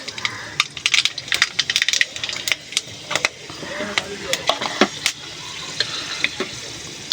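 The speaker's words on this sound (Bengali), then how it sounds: "এবার যেখানে কড়াইতে তেল দিয়ে দিয়েছি, এখানে দিয়ে দেবো গোটা গরম মশলা" Whole garam masala spices crackle and sizzle in hot oil in a wok, a dense, steady frying hiss with many sharp pops and spatters spread throughout, close and fairly loud.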